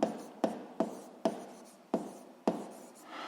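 Pen strokes on paper during a Ukrainian seventh-grade physics lesson, six distinct scratchy bursts at a steady rhythm, close and clear with no talking.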